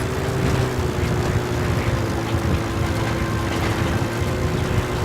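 Steady rotor and engine drone of a helicopter in the video game Metal Gear Solid V, a continuous mechanical hum with a fixed tonal whine, heard alone at constant loudness.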